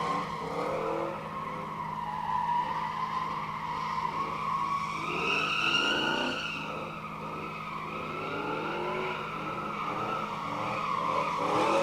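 A race car at full throttle during a test and tune day, its engine roaring steadily with rising and falling pitch and a continuous tire squeal, heard loud and unbroken with no talk over it.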